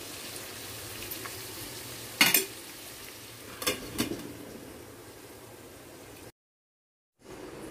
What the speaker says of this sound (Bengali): শক্ত আনাজগুলো একটু কষা যাক মশলার সঙ্গে, তারপর নরম আনাজ দেবো।